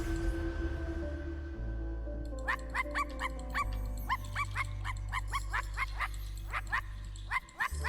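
Sparky the dog in the video game I Am Dead barks in a rapid series of short yips, close and clear over a low, steady game music drone.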